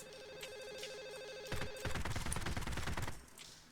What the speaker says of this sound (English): You can hear a phone ringing.